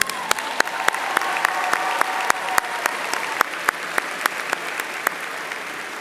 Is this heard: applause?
yes